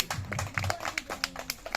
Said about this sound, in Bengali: সুন্দর হাততালি